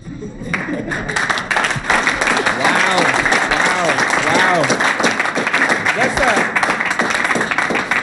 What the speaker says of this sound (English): Everyone is clapping to that point